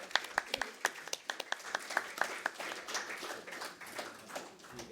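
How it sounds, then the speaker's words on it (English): Applause from a conference audience at a political party event for a visiting former Foreign Secretary: a short round of distinct hand claps, moderately close, building into a steady patter that fades. "Quick round of applause for our fellow Forest Secretary"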